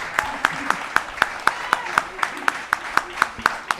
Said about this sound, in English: And another round of applause for Dr. Micah Jackson